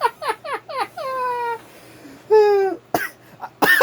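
Several separate coughs, close and fairly loud, with a pause between clusters and a hoarse throat-clearing burst near the end.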